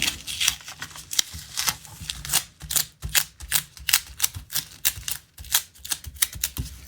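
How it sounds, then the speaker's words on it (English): Adhesive tape is peeled away in a run of sharp, crackling rips and snaps, close and fairly loud, with irregular bursts spread over nearly seven seconds. "I'm going to remove this tape"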